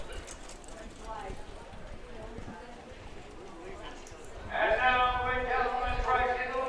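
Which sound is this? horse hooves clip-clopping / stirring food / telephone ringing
horse hooves clip-clopping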